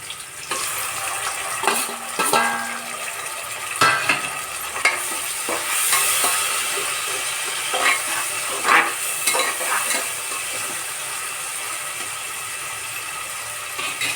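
Tomatoes fry with masala in a pan, a steady close sizzle running throughout while a spoon stirs and scrapes the pan in occasional clatters.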